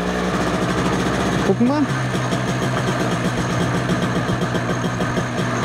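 An MZ ETZ motorcycle's two-stroke engine chugs steadily with a rapid, even pulse, close and loud throughout, with brief talk partway through.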